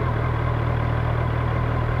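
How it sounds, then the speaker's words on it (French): The cooling fan of a Kawasaki Versys 1000 SE motorcycle whirs beside the idling engine, making a steady, close, low hum with an even pulsing throb and no voices. "un ventilo qui vient de se mettre en route"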